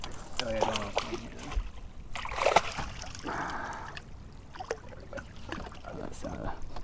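A ladyfish is dunked in river water beside a kayak, giving a couple of brief splashes and sloshes amid excited talking voices.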